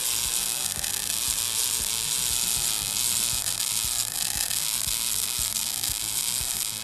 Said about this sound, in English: If the wire is positioned on the leading edge of the puddle, similar to traditional short arc technique, the wire will push through the joint. The arc will stutter